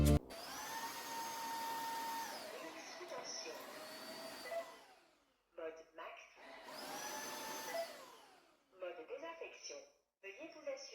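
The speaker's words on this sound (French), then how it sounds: "C'est vraiment franchement formidable de pouvoir aspirer et laver vos sols en même temps." A Proscenic wet-dry vacuum cleaner runs while washing floors, a loud steady motor whir in two long bursts with falling pitch. Short clicks and a spoken device prompt come in between.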